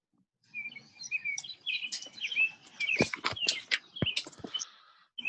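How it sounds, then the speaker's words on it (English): Birds chirp and trill in a busy, overlapping chorus, with bright tweets and a few sharp louder calls nearby. "the lovely sound of birds in the background"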